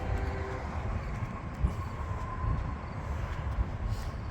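A CSX work train rolls past on the railway near a diamond crossing, a steady rumbling roar with clacking low thumps at intervals, heard alone without voices.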